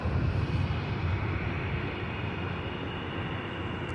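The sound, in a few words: airplane at Tampa International Airport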